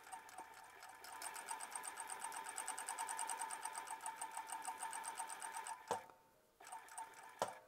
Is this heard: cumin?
no